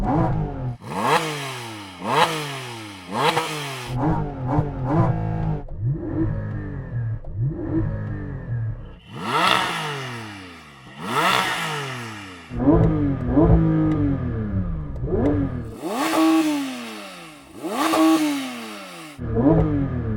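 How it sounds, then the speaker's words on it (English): A Porsche GT3 RS engine revs hard in repeated sharp bursts at a drag-race launch, rising and falling in pitch, loud and close, with brief pauses between the blips. "keep your left foot on the brake, pull in both paddles. and then rev your engine"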